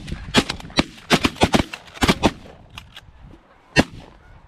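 Shotgun blasts during a field goose hunt with several hunters, a rapid volley of sharp, loud reports clustered together, then a few scattered shots and one final blast after a pause.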